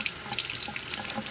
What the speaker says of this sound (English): So I'm going to throw one of these green peppers in the soup. And just rinse it off pretty good.